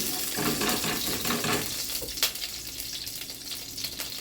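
Semolina roasts in ghee in a pan with a steady, dense close sizzle and a soft stir that continues throughout, along with one brief sharp scrape partway through.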